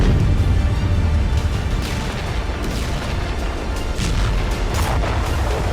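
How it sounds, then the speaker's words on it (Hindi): Loud, rumbling blasts and crackling bursts from exploding Russian BMP-3 armored vehicles in the Russia-Ukraine war roll on continuously, dense and distorted, with no voices. "रूसी BMP टैंकों में जबरदस्त धमाके देखे"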